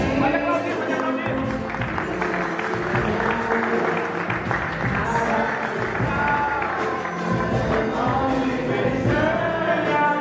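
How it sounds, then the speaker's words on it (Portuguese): A church congregation claps and cheers loudly and continuously right after a baptism, a dense crowd applause filling the room with voices mixed in throughout. "Pode aplaudir, pode aplaudir."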